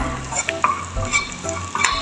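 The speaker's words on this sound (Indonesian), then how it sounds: "Kita masukkan, kita goreng sampai wangi." Garlic and shallots frying in a pan over a small flame, a steady sizzle with occasional stirring scrapes and light clinks of a utensil against the pan, close and clear with no talk.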